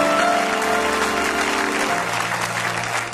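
A church congregation claps and cheers in a dense, steady round of applause that fades slightly toward the end.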